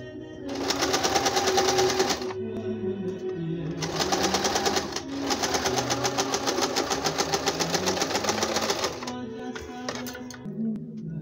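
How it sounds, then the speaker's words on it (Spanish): Sewing machine stitching fabric seams at a textile recycling workshop, running in several fast rattling bursts with short pauses between them, close and steady, no talk. "nos vamos a la máquina de coser"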